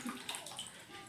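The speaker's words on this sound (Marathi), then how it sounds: "आता स्वच्छ हे आमची आई स्वच्छ पाण्याने आंबे धुते." Mangoes are washed by hand in clean water, giving a short burst of splashing and sloshing close up.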